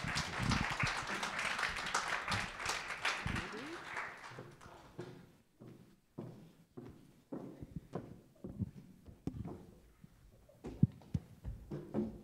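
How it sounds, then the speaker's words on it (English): Audience at a poetry, essay and memoir reading by Tacoma-area women of color applauds the readers returning to the stage. A dense, loud wash of clapping fills the opening seconds, then thins into scattered individual claps and quieter room noise. "let's give it a round of applause to all of our readers"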